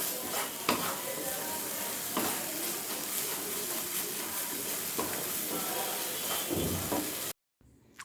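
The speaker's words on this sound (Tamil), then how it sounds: "வெங்காயம் தக்காளி பாருங்கள் நல்லா பட்டரில் நல்லா வதங்கி" Onion and tomato sautéing in butter for butter chicken, a steady broad sizzle with occasional stirring scrapes, fairly quiet and close, ending abruptly in a brief silence.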